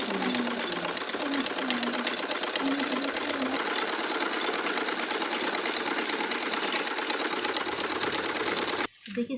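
A sewing machine runs steadily, stitching lines and a design into a salwar cuff. The motor whirs continuously for about nine seconds before stopping abruptly near the end.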